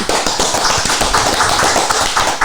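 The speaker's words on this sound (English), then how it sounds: "Let's give a hand clap for Special K, please." A small podcast studio audience claps steadily to welcome a guest, dense and close-miked with no talk over it.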